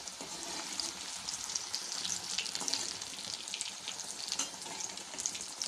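Kothimbir vadi, Nagpur-style coriander fritters, deep-fry in hot oil with a constant bubbling hiss and fine crackling, steady and fairly quiet, heard close with no voices.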